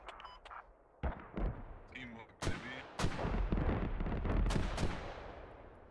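Mortar rounds in the Star Wars Galactic Contention game fire and land in a series of sharp booming blasts, several in quick succession, mixed with rumbling impacts while players talk over radio chatter.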